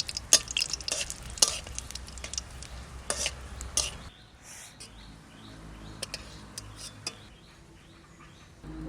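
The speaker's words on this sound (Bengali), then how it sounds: "সরষের তেল, আগে ছোট মাছটা ভেজে নেব" Small fresh river fish frying in mustard oil, a steady sizzle with several sharp spatters and scrapes over the first four seconds, then a quieter, lower bubbling fry for the rest, close and alone.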